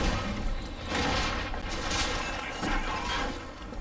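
Rapid gunfire from a firearm in the video game Bioshock Infinite, a dense, sustained barrage of loud shots with booming bursts and mechanical clatter filling the clip.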